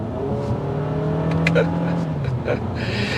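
A 2023 Toyota Camry XSE with its four-cylinder engine accelerates on a test drive, the engine note rising steadily from inside the cabin, loud and continuous with a few faint clicks over it.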